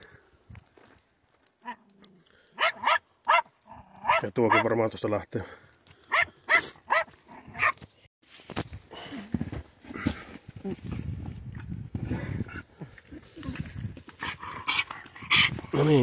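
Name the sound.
dog barking in a cave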